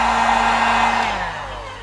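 Heat gun blowing a steady broadband rush of hot air close by while wheel decals are applied to an MK5 Supra, with a faint tonal whine that slowly drops in pitch as the airflow eases.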